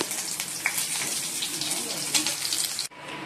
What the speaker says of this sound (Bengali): চলো পনিরটা ভেজে নিয়েছি আর এদিকে পটলটাও ভেজে নিচ্ছি।